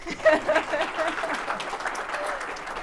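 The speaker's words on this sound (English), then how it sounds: "Can you give a round of applause?" At a fireside chat with a property stokvel founder, the audience gives a moderate round of applause, a soft, even wash of many hands clapping at some distance, with faint voices mixed in.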